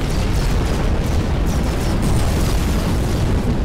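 Explosions roar through a space fleet battle in the strategy game Executive Assault 2, a loud, dense, unbroken wall of booms and rumbling blasts with no pauses.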